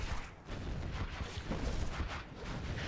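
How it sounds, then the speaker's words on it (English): Flashbangs go off in Command & Conquer Generals Zero Hour, dense overlapping booms and blasts forming a continuous, rumbling barrage at moderate volume. "We've got flashbangs now,"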